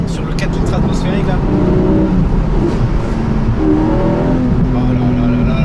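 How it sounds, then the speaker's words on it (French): A Porsche 718 Boxster GTS 4.0 naturally aspirated flat-six roars steadily through the whole stretch, intake noise prominent, with low rumbling harmonics rising and falling as it revs in Sport Plus mode; someone speaks over it. "Ce bruit d'air d'admission sur le 4 litres atmosphérique là"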